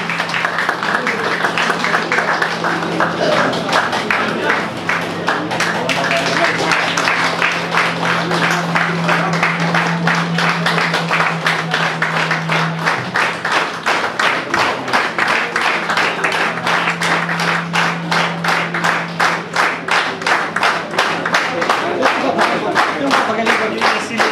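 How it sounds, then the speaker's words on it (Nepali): An audience at the 25th-anniversary event of a hotel representatives' society in Pokhara claps to welcome the chief guest. The applause is loud, dense and sustained, with a low electrical hum underneath. "सबैले ताली बजाएर कार्यक्रममा"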